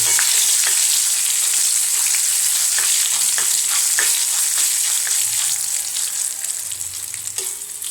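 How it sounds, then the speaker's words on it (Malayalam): Curry leaves and dried red chillies fry in hot oil with a bright, steady sizzle. Scattered pops and the scrape of stirring sound close by, and nobody speaks. "അപ്പോഴേക്ക് നമുക്ക് ഇതാ വേപ്പിലയും ഉണക്കമുളകും ഇട്ട് കൊടുക്കാം കേട്ടോ"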